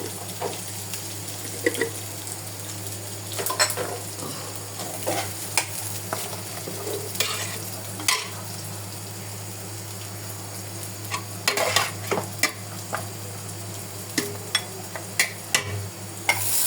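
Beef rezala frying in a pan after cumin powder is added, a steady low sizzle under repeated scraping and stirring taps from a spoon, continuous and close.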